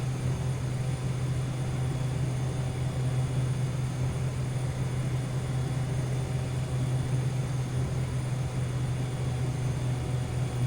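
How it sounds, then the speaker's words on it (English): Airplane flyby in Air Hauler 2, a steady droning propeller engine hum with a strong low tone, constant and close throughout, no talking. "we've just done a flyby"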